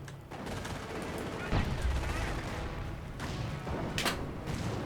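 Machine gun fire and battlefield explosions in the World War II strategy game Company of Heroes, Operation Market Garden, with bursts of rattling fire and heavy thumps over a dense, continuous din.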